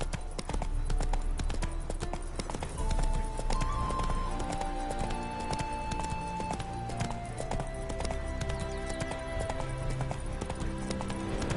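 A horse's hooves clip-clop steadily at a walk in The Witcher 3, over a continuous background of music, with a faint whinny mixed in.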